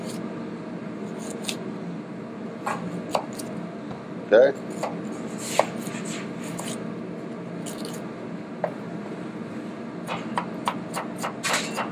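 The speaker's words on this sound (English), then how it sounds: "I'll show you how to dice. Easy dice on a carrot." A kitchen knife dices a carrot on a cutting board, giving scattered sharp chopping taps that come in irregular bursts, quick runs near the end, with a voice speaking briefly.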